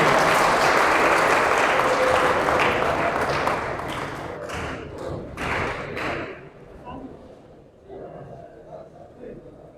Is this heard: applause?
yes